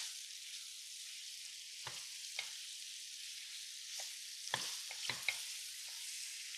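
Tomato and herb chicken sears in a skillet with a faint steady sizzle, broken by a few scattered scraping knocks as the pieces are nudged around, quiet and close.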